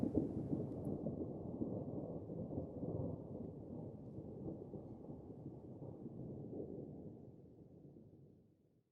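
A long, deep rumble of thunder rolls through a storm, a steady low roar that holds for several seconds before fading out, with a hint of rain beneath and no voices.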